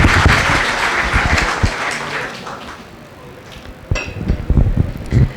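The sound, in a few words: group clapping after exercise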